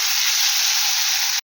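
A pressure cooker of rice on a gas stove vents steam in a loud, steady, close hiss that holds evenly before cutting off abruptly.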